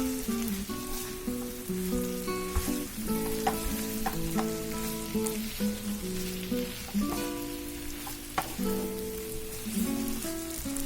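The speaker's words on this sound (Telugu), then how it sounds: "ఫ్రై అయిపోయేంత వరకు మనము ఫ్రై చేసేస్తున్నాము." Brinjal and potato pieces fry uncovered in a pan, a steady close sizzle running throughout with repeated clinks and scrapes of a spatula stirring, no voices.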